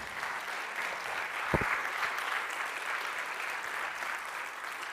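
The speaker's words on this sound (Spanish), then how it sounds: "Dale un fuerte aplauso al Señor si te gustó eso." A church congregation applauds in a sustained, even wash of clapping, moderately distant and soft, with a single sharp thump partway through.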